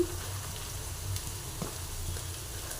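Chopped green chillies frying in a little oil for egg bhurji, a steady soft sizzle with faint crackle running throughout, close and continuous, with no talk.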